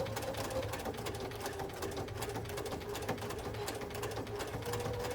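A sewing machine stitches a rope bowl in a steady, continuous whirring run, loud and close, with no pauses and no voices.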